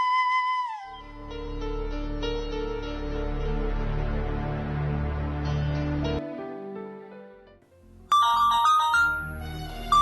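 A melodic electronic ringtone plays loudly and steadily for several seconds, then changes to a brighter, higher chiming tone near the end.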